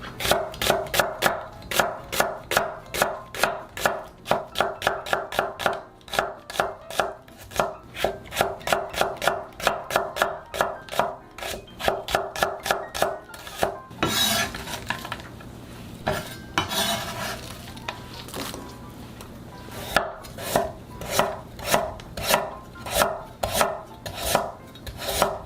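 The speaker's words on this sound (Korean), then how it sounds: "양파 1개도 채 썰어 주세요." A knife slicing an onion into thin strips on a cutting board: rapid, even chopping taps in long runs, broken by a short pause with rustling and sizzling before the quick rhythmic chopping starts again.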